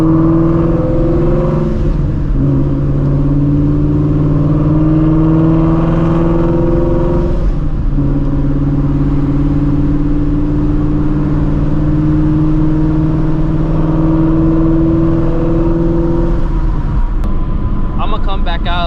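A supercharged Shelby GT350 on Nitto NT555R2 drag radials pulls hard, its engine note climbing steadily and loudly from inside the car over a long run, with a brief shift and a continuing roar near the end.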